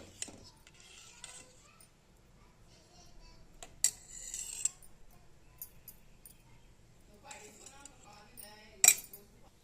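A spoon stirs strained homemade mango juice in a pot on a stove, with scattered metallic scrapes and clinks against the pot, faint and intermittent, separated by quiet stretches.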